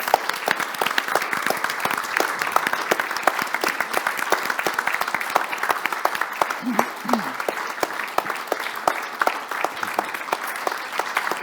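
Sustained applause from a conference audience welcoming a team to the stage at the close of a panel on EU integration, dense and steady throughout with no talk over it.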